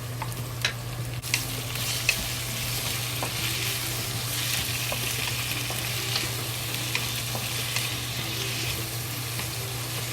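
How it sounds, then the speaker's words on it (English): Long beans and tomatoes stir-fry in a wok with a steady, close sizzle, and faint scrapes and clinks of stirring run throughout. "Now we add the tomato into it to fry them together."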